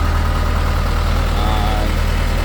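A Case 580D backhoe engine idles steadily and close by, a constant low rumble with an even mechanical drone throughout, with no talk.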